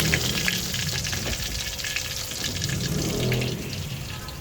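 Steady, dense sizzling and crackling of sasa fish frying in hot oil, close up and continuous, with no talking.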